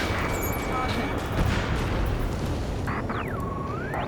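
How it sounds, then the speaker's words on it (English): Gunfire and roaring jets in an urban martial-law scene from the Ace Combat 7: Skies Unknown video game, a dense continuous rumble of shots and engines with a jet sweeping past near the end. "Gunfire and the roar of jets echoing through the streets."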